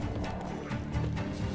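Brief galloping hoofbeats from a horse in The Witcher 3, steady and close, blended with in-game music.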